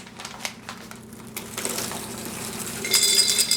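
Goldfish crackers poured from a bag into a glass jar, a short rattling cascade of small dry pieces clattering against glass, building louder toward the end.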